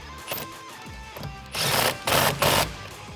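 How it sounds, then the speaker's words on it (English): A socket wrench tightens the nut on a 2015-2017 Mustang GT steering wheel, with a few soft clicks, then three louder bursts of rapid ratcheting close up, and no voices. "grab your socket and tighten this guy down"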